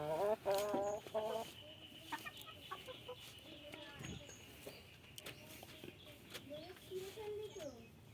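A desi laying hen clucks in a run of rhythmic calls, loud at first, then spaced and softer, close by with a person talking intermittently over it.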